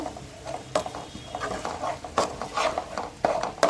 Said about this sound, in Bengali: এরপর দিয়ে দিচ্ছি পেঁয়াজ বাটা তার সাথে দুটো শুকনো লঙ্কা বেটে নিচ্ছি কালারের জন্য এটা খুব ভালো মতো করে ভেজে নিচ্ছি